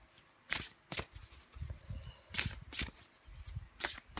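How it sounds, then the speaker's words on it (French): Tarot cards being shuffled and drawn, several soft, quick riffling bursts at irregular intervals, close and fairly quiet, with no talking. "Allez, une dernière carte pour vous les Vierges."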